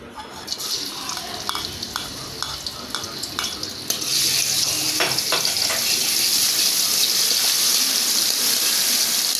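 Spices are tempered in hot oil in a heated wok for a sour olive and red amaranth dish. A few light stirring clicks come first, then a loud, steady sizzle starts suddenly and continues to the end.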